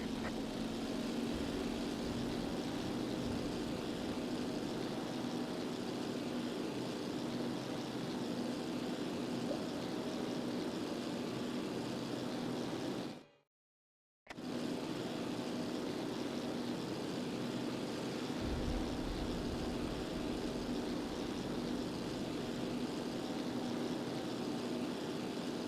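A WWII fighter plane engine droning steadily in flight in a Pacific combat video game, a constant loud propeller hum broken by one brief cut to silence midway.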